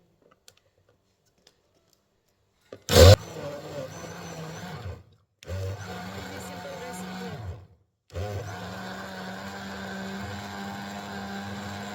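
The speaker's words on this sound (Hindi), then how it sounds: "ब्लेंडर को हम चला लेंगे।" A loud motorized whir starts abruptly, cuts out briefly, then resumes twice in steady bursts, a blender running in short pulses while making fresh apple juice.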